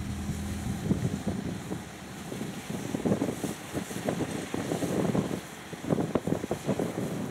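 A sand-carrying barge boat on a river, heard as a steady low engine rumble mixed with water wash and gusty wind noise on the microphone, with irregular thumps throughout.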